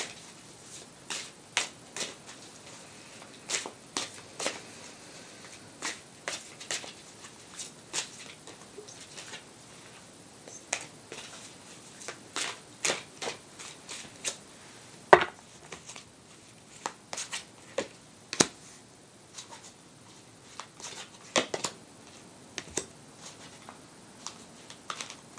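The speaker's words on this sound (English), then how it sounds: "just gonna breathe as I shuffle the cards" Tarot cards are shuffled by hand: faint, irregular bursts of soft riffling and tapping, close but quiet, separated by brief pauses, with no talking.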